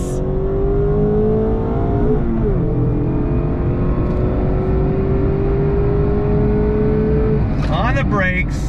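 A 2022 Mazda MX-5 Miata Club accelerates hard on throttle, its engine note climbing steadily through the revs, dipping briefly at a gear shift, then rising again loud and close, with voices talking over it.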